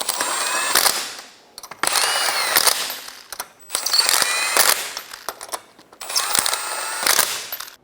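A ratchet snugs down the lug nuts on a 2012-2016 Subaru Impreza wheel, four loud, close bursts of rapid clicking separated by short pauses.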